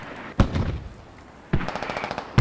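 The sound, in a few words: mortar explosions and gunfire in the video game Squad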